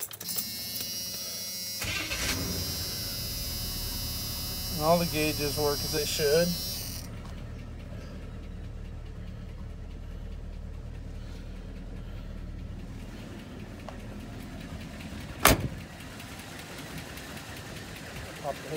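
A 1986 Chevy C10 pickup truck engine cranks and catches, then settles into a low, rumbling idle, with a person talking briefly over it and a sharp click later.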